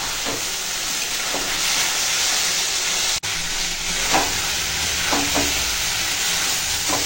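Spices sizzle in a hot pan while being stirred for a prawn curry, a continuous frying hiss with occasional scraping strokes of the spoon and one brief break in the sound.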